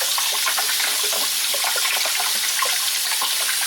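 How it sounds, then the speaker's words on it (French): Food is rinsed under a steady stream of running tap water, a continuous close splashing wash with no talk. "Je vais encore les rincer, on sait jamais."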